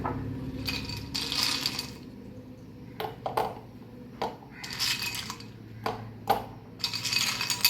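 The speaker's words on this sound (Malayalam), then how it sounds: "ഇനി നമുക്ക് ഇതിനകത്തോട്ട് ഐസ് ക്യൂബ്സ് ഇട്ട് കൊടുക്കാമേ" Ice cubes drop into a container for cold coffee, producing bright, close clinks and clattering knocks in scattered bursts with short gaps between, some single hits and some rattling clusters.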